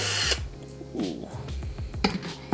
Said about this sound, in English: Press down, and then you just drill it.